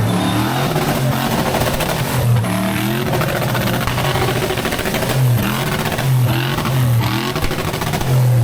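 An off-road vehicle's engine at a Malaysian rainforest off-road challenge revs hard again and again, bouncing off the rev limiter in loud repeated bursts throughout with no talk.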